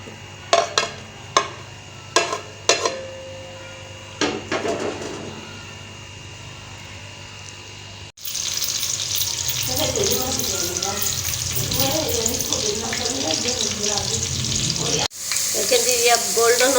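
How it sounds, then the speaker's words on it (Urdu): Onions dropped into a cup of hot oil for chicken korma: a few clinks and taps give way to a sudden loud, steady sizzle of frying that continues, briefly cuts out, then resumes strongly. "ایک پیالی آئل جا رہا ہے، اس کے ساتھ یہ جا رہے ہیں پیاز، ان کو ہم نے فرائی کرنا ہے"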